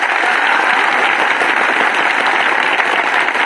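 A crowd at an army training talk claps loudly and continuously in a thick, uniform roar of applause, close and full with no talk breaking through.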